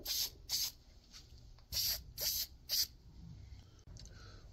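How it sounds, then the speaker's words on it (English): Protective clear coat is sprayed onto an iron meteorite from an aerosol can. There are five short hissing bursts, two and then three, loud and close, with quiet pauses between them. "let's go ahead and spray this piece"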